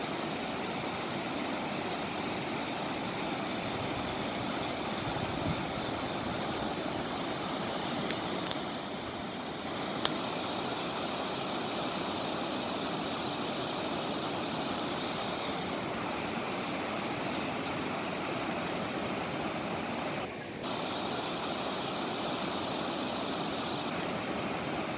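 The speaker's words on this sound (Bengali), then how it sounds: "হঠাৎ জলের শব্দ পেয়ে দাঁড়ালাম, তারপরে দেখছি এই নদীটা বয়ে যাচ্ছে।" A small mountain river beside the narrow Pedong road, at a spot repaired after a landslide, roars like a waterfall in a loud, unbroken rush with no voices.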